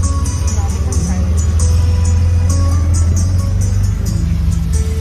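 Ride in an auto rickshaw through Vartak Nagar, Thane: a loud, steady low engine drone with constant road rumble and faint high ticking, continuous throughout.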